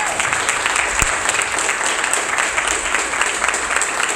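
Church congregation applauding steadily, a dense, even wash of many hands clapping at close range with no talk over it.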